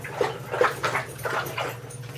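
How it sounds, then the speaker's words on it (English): Dogs bark indoors at home in a run of about five or six short, moderately loud yaps, spaced roughly evenly, with no talk. "Listen how loud these dogs are."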